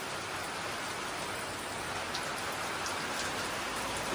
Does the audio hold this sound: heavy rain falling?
yes